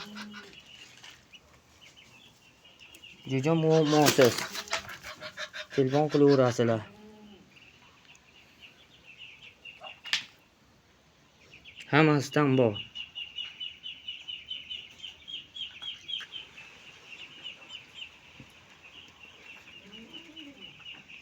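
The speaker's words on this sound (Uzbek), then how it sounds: "Mana bu yoqqa balachalarni ajratib qo'yibman." Chicks penned apart in a farm shed keep up a thin, continuous high peeping throughout, while someone talks nearby and a louder bird call breaks in twice.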